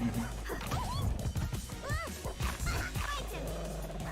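A dog character in a fighting video game yelps and barks in several short bursts, mixed with hit and impact effects and excited commentary voices.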